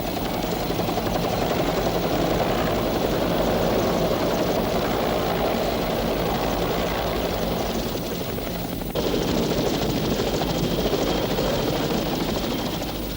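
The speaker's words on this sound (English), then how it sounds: "the helicopters can now only land on the embassy roof or in its secluded compound" Helicopters landing at the US embassy in Vietnam during the final evacuation, a loud, continuous rotor thud and turbine roar that holds steady throughout with no voices.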